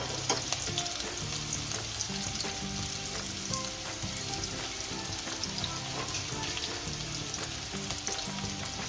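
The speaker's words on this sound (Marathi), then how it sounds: "आता हा कांदा आपण एकदम ब्राऊन कलरवर, तांबूस रंगावर भाजून घ्यायचा आहे" Onion frying in a pan, producing a loud, continuous sizzle with scraping stir sounds throughout and no voices.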